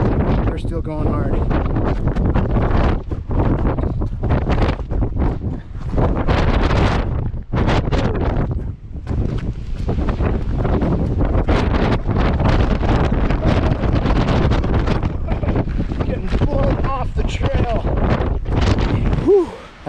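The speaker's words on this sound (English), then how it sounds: "It was definitely the hardest wind I've had to run through up here." Hard, roaring wind buffets the microphone on an exposed mountain ridge during a trail run on the Pemi Loop, a loud continuous rush with gusting surges and rustling, sustained for the whole stretch.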